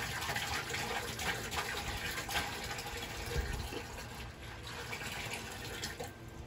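Water pours into a Grainfather all-in-one brewing system while mashing a hefeweizen, producing a steady, close gushing fill that runs continuously and evenly throughout.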